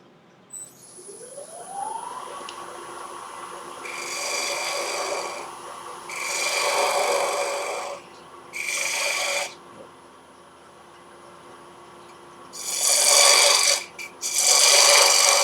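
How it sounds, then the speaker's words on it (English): Quarter-inch ball gouge hollowing a spalted beech bowl on a wood lathe, a raspy scraping cut in several bursts of a few seconds each, separated by pauses filled with a steady motor hum. "It's just a little 1/4 inch ball gouge."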